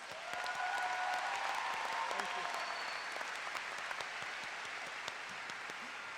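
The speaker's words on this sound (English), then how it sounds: "Please give them all a round of applause." A large commencement crowd applauds at a university graduation ceremony, a broad, continuous wash of clapping heard from a distance at a fairly low level, with a few faint voices and whistles mixed in.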